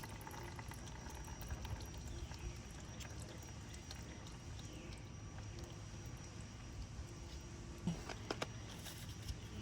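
Engine oil draining from a Kia oil pan makes a steady, low liquid pouring and trickling sound that runs the whole time, with a few faint clinks and knocks near the end.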